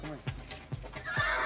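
A horse whinnies several times amid a roadside towing job, its neighs repeating in short bursts over steady background noise as a person speaks nearby.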